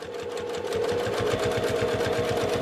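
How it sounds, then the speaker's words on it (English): A sewing machine runs on vinyl for a project bag, a rapid, even needle rhythm close by that picks up slightly and holds steady, alone without talk. "I'm stitching on top of the vinyl."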